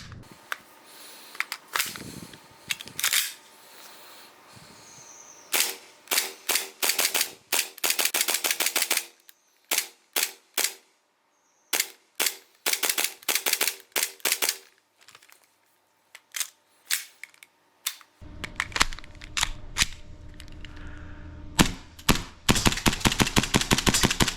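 Airsoft guns fired in a shooting test outdoors, with bursts of sharp, rapid shots in quick strings and single pops, separated by short pauses, fairly close and loud, and a final stretch of dense rapid fire.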